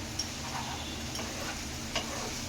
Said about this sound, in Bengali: হালকা তেলের মধ্যে সব সবজি আমি দিয়েছি